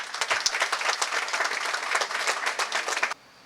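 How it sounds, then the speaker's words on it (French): A hall audience applauds steadily for about three seconds at a magistrates' school twentieth anniversary ceremony, dense clapping that stops abruptly. "Il faut l'applaudir"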